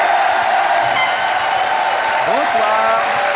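A TV studio audience applauds and cheers as Miss France Valérie Bègue is welcomed, a steady wash of clapping throughout, with a voice and music over it.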